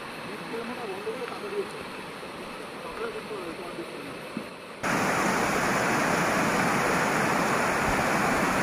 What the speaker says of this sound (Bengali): খুব জোরে নদীর জল খুব স্রোতে বইছিল